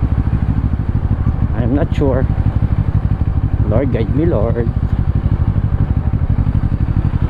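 Brixton Bristol Bobber 700 motorcycle engine droning steadily while riding through traffic on the NLEX expressway, a loud continuous low rumble with wind noise, as someone talks briefly over it twice.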